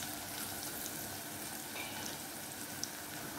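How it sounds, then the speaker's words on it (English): Onions with turmeric fry in a pan for calabash curry, a steady dense sizzle and hiss close up, with faint stirring scrapes and no voices. "A few minutes to brown, and I'm going to add the turmeric, salt to taste"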